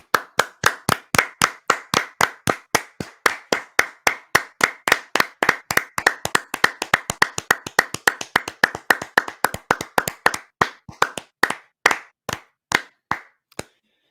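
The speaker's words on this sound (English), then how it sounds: "Can we clap? Let's clap." A few people clap along together, crisp close handclaps in a steady rhythm that speeds up in the middle and then thins into scattered final claps, with no talking over them.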